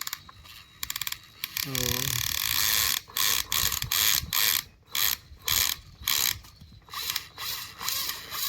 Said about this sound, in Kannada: ಒಳಗಡೆ ಗೇರ್ ಕಡಕ್ ಕಡಕ್ ಮಾಡೋಕ್ಕೈತಿ